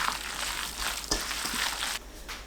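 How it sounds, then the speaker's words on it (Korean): Perilla leaf pancakes fry in oil in a preheated pan over medium heat, giving a loud, continuous sizzle that holds steady throughout. "예열된 팬에 식용유 두르고 중불로 노릇하게 붙여주세요."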